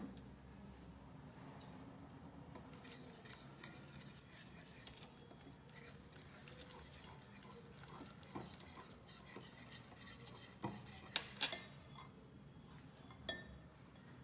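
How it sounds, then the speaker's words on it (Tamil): Spoon stirring and mixing batter of mushroom, salt and water in a bowl for mushroom popcorn, a quiet continuous scraping and clinking with a few sharper taps near the end, no talking. "இது எல்லாத்தையும் நல்லா மிக்ஸ் பண்ணிக்கோங்க."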